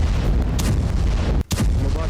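Bombing in an airstrike on Dahiya, Beirut, heard as a continuous loud, low rumbling roar of blasts with a brief dip near the end, with no talk.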